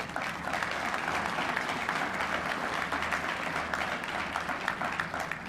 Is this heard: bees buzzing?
no